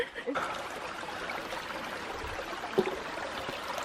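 A stream of flowing water running along a hiking trail, a steady broadband wash near the listener, with voices talking over it.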